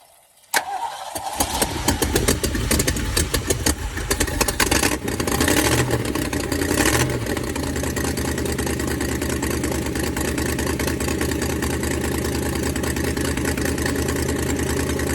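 A 289 V8 car engine cranks and starts, revs briefly, then settles into a steady, rough idle with a raspy, puttering exhaust leak close by.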